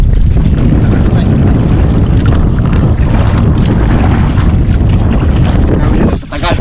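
Strong wind roars loud and steady over an open boat on the sea during fishing, buffeting the microphone with constant gusty rumble for several seconds.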